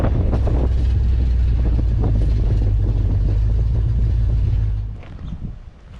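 A 1968 Chevrolet Bel Air engine runs after sitting for eight years, giving a loud, steady low rumble close to the microphone with some wind noise. It then cuts off near the end, leaving a quieter fading tail.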